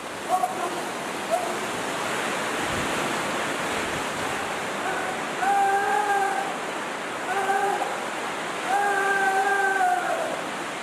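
A waterfall where practitioners stand beneath the falling water during a Buddhist ascetic rite, giving a steady, full roar of pouring water that stays constant throughout, with faint chanting voices rising briefly over it.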